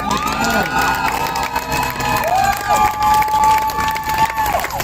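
A crowd gathered for a march against policing in Philadelphia claps, whoops and cheers for several seconds, with loud shouts and voices mixed into the noise.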